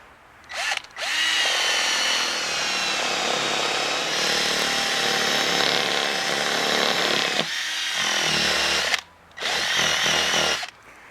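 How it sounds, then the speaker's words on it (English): A power drill bores holes through a tire, whining loudly in long sustained runs with two brief pauses between bursts, close up and with no talking. "Then take a drill and drill a hole at each spot to feed the rope through."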